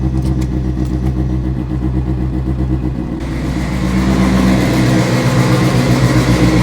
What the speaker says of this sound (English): Car took a second to want to idle on its own